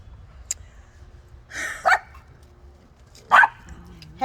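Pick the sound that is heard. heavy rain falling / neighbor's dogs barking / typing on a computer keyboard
neighbor's dogs barking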